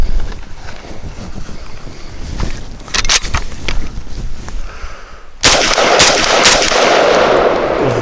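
AWS Spets 12 shotgun firing Herter's Select Defense buckshot with a round ball and number one buck, a few sharp, loud reports outdoors amid wind noise, followed by a rushing wind blast.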